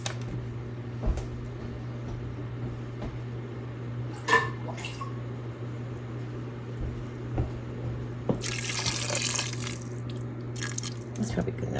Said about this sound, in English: I think I'm going to add a little bit more water